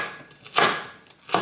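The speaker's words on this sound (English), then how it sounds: "so I'm gonna chop it first" A knife chops through an onion on a cutting board in a home kitchen, two sharp broadband strikes spaced apart with a fainter tap between, close and clear with no talking.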